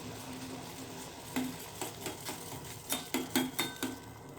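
A spoon adds honey into a pot of a home remedy for cold and cough, producing a series of soft clinks and taps against the vessel over a faint background hiss, fairly quiet and close.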